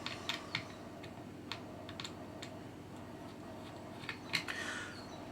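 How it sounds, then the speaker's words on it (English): Small screws are undone on a eufyCam E CCTV camera, heard as sparse, quiet clicks and ticks from a close screwdriver over a faint steady hum. "We're going to undo these three screws now."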